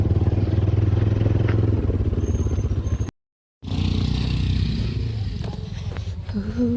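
A motorbike straining on a rough, rocky mountain road in rural Nepal, its engine droning and revving with clattering and scraping, briefly cut off by a silent gap before the rumbling resumes.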